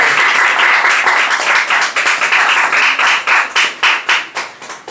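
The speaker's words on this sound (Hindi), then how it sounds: "जोरदार तालियों से हम उनका स्वागत करना चाहते हैं" Church congregation clapping hands in welcome, loud close applause that turns into rhythmic unison claps, the beats growing more distinct and spaced toward the end.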